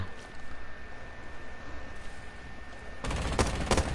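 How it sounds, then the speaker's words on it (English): Video game shotgun fire arrives as a sudden loud burst of blasts near the end, after a stretch of low rumbling ambience, with a couple of sharp reports close together. "That's a shotgun."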